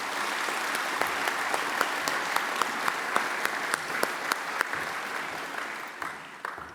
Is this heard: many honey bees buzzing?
no